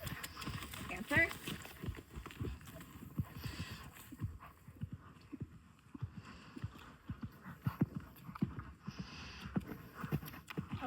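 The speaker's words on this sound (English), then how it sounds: "I'm going to ask for that canter." A former cow-working horse canters in circles, its hoofbeats thudding in a steady rolling rhythm close by, while a rider talks over them.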